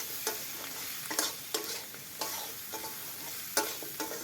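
Ground spices with turmeric and chili powder being fried in a pan as the base for a fish curry. A bright, steady sizzle runs throughout, punctuated by several spatula scrapes and knocks. Close and fairly quiet, no voices.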